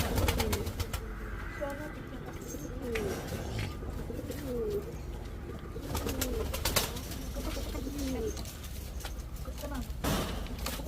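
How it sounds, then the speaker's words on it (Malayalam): Pigeons coo repeatedly inside a dovecote, soft rolling calls overlapping near and farther off, with people talking intermittently and some knocks and handling noises in the background. "ഇവിടെ ഒരുപാട് പ്രാവുകളുണ്ട് കേട്ടോ"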